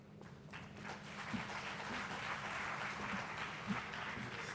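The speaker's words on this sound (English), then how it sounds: "Let's give him another round of applause, ladies and gentlemen" Audience applause at an official launch ceremony for Centres of Specialisation and a 4IR lab at a TVET college: steady, dense clapping that holds at an even level for the whole stretch, with a few sharper claps standing out.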